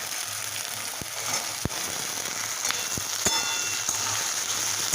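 Green peas tipped into vegetables, carrot pieces among them, frying in a wok produce a steady, moderately loud sizzle, with a few sharp clicks and taps scattered through it.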